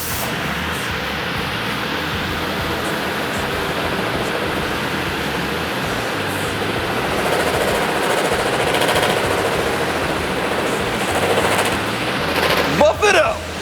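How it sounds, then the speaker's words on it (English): A buffing machine polishing a Framus Pro Series XG-Model electric guitar gives a loud, continuous close-up whirring drone that grows slightly stronger partway through and ends with a few brief clatters. "I think we're gonna buff it."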